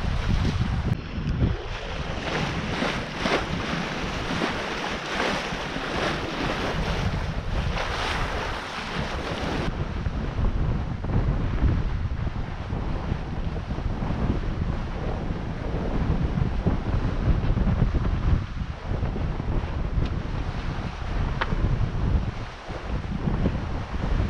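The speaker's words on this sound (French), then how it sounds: "Ça souffle, ça souffle." Steady, loud wind roars across the microphone aboard a sailboat at sea in the Ionian Sea, running at about seven knots in a twelve-knot breeze, with continuous rushing water and hull noise and no pauses.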